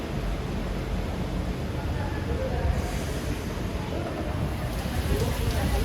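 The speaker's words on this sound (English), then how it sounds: "No, it is raining, and quite heavily" Heavy rain pouring on a street in Singapore, a dense, steady hiss of downpour with a low rumble underneath, constant and fairly close throughout.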